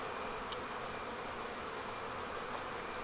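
Honey bees buzz faintly inside a weak, dying hive with a small cluster and poor comb, a steady diffuse hum with no voices.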